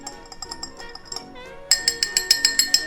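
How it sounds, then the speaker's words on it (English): A spoon stirring white rum in a glass for a blueberry rum cocktail, steady rhythmic clinks against the glass, soft at first and then sharper, louder ringing taps in a quick regular series. "Give it a stir."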